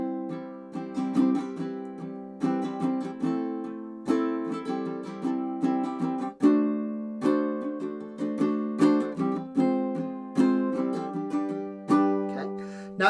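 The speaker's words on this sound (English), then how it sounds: "if you're playing this traditionally as you would normally play the chords, it would look and sound something like this" A ukulele strums the chords of a song in the traditional way, a steady, even rhythm of bright chord strikes repeating for several bars, close and clear with no talking.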